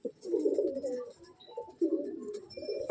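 Andhra pigeons in a loft give repeated deep, burbling coos nearby, two main rolling phrases separated by a short lull, ending in a sudden sharp noise.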